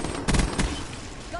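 Burst-fire gunshots from an M8 A7 rifle in a first-person shooter video game, one short cluster of rapid shots close and loud over steady game background noise.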